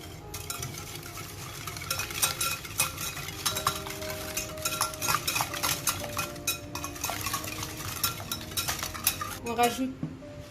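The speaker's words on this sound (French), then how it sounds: "Ensuite on mélange le sucre. On va les battre les œufs" Eggs and sugar are beaten in a bowl for a fruit tart, a rapid, busy run of clinking and scraping strokes against the bowl, close and steady for about ten seconds.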